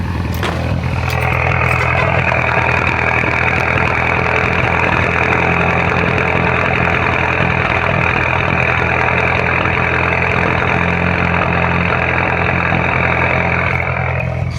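Close, loud car engine idles continuously with a rough, uneven low rumble, as if cylinders are misfiring after warming up, droning steadily throughout with no voices.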